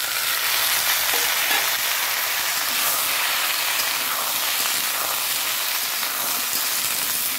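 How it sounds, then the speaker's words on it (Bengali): Panch phoron, a Bengali five-spice tempering, frying in hot oil with a loud, steady, close sizzle and crackle that holds without a break throughout. "দেখো এখানে 5 ফোড়ন দিয়ে দিচ্ছি"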